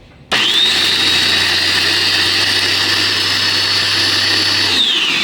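A food processor motor starts abruptly and runs with a loud, steady high-pitched whir and hum for several seconds, then winds down at the end.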